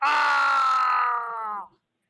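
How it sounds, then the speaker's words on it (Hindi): An agonized dying scream rings out in a comic audio drama. A single loud, wailing cry starts at full strength and slowly sinks and fades out over about a second and a half. "अंतिम दर्दनाक चीख गूंज उठी"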